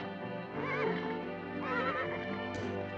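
A horse whinnies twice in rising and falling cries over a steady low hum, close and fairly loud.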